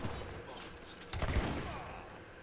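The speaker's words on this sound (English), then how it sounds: "they get obliterated by organ guns and some cowboys" Organ guns fire volleys in a high-level 3v3 Age of Empires III match, with a burst of rapid shots cracking out midway under a commentator's voice.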